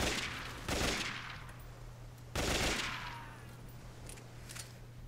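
Gunfire in the PRISM video game comes as two loud rapid automatic bursts a couple of seconds apart, each fading into a steady background hum, with no talk.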